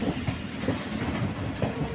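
A passenger train with sleeper and general coaches runs along the Western Ghats railway, giving a continuous loud rumble with a rhythmic wheel clatter and a faint hiss.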